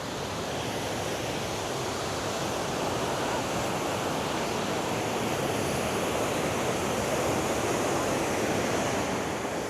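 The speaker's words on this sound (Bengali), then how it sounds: "3টি ধারায় বয়ে চলেছে উশ্রী নদী।" The Usri river rushing over rocks in three streams, a steady, loud, broadband roar of flowing water that holds even throughout.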